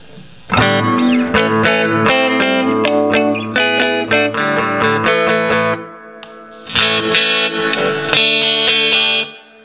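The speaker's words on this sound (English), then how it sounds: "That's this stereo guitar with the acoustic built in playing." A stereo guitar with a built-in acoustic pickup plays through an old Roland JC-120 amp that failed repair, bright chorused chords and note runs ringing loud and close in two phrases separated by a short pause.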